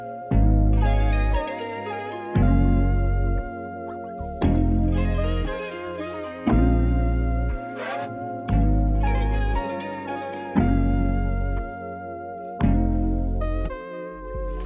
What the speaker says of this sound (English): That's a classic R&B and gospel chord progression that's in plenty of songs.